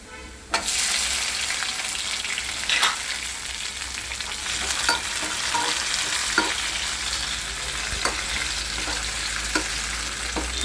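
Tomatoes being added to frying onions in a pan for a spicy brinjal curry, a dense continuous sizzle up close punctuated by several sharp spatula scrapes and stirring knocks, with no talking.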